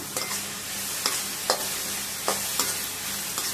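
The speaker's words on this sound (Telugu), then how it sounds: "బాగా ఫ్రై చేసుకోవాలి" Potatoes, onions, tomatoes and green chillies fry in a pan with a steady soft sizzle, broken by a handful of spaced spatula knocks and scrapes, close by.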